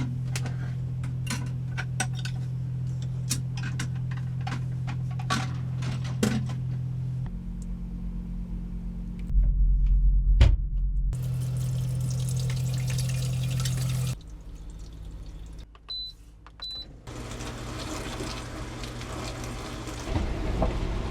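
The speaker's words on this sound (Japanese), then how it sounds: "このミニ食洗機に移動中洗ってもらいます。" A mini dishwasher runs inside a camper van, with a steady low motor hum, ticking and dripping water sounds, and shifts in tone as its cycle changes, all close and without talking.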